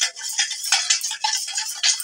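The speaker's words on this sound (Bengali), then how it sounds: "এইভাবে নেড়ে নেব।" Spoon stirring sugar and black salt into a lemon drink in a glass, a quick series of light clinking and scraping taps in an uneven rhythm, close and alone without talk.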